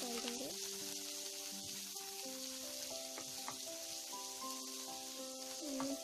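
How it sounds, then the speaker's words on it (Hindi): Chopped onions frying in a pan with cumin seeds for paneer bhurji, a steady soft sizzle running through the whole stretch beneath a layer of tonal background music. "अनियन को फ्राई करेंगे गोल्डन ब्राउन होने तक।"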